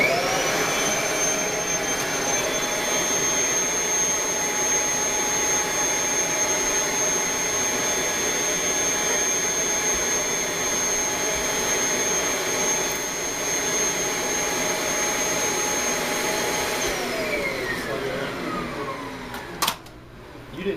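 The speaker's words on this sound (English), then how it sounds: "I'm going to have you just vacuum a portion of the floor" A Kirby Sentria 2 vacuum cleaner runs on a floor with a loud, steady whine and roar for about seventeen seconds, then winds down as the motor is switched off, followed by a short clunk.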